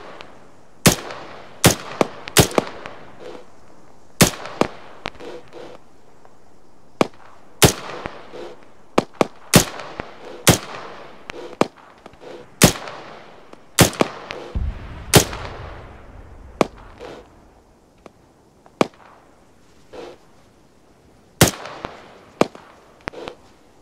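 Sharp, loud rifle shots ring out singly and in quick pairs across a long firefight in the video game Arma 3, set in Afghanistan's Uzbin Valley mountains, with irregular gaps between reports and a brief low rumble midway.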